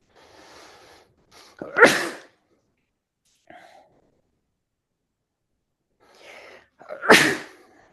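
Two loud sneezes from a person indoors, each preceded by a short inhaled breath, the first near two seconds and the second near seven seconds, with quiet gaps between them.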